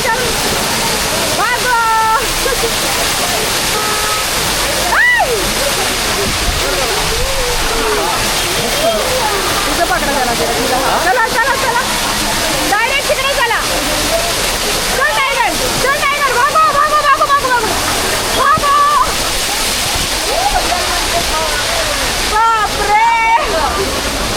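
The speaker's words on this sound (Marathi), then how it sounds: "भिजलो त्या धबधब्यात" Malshej waterfall roars steadily close by, a dense constant rush of water, while several people talk and call out over it.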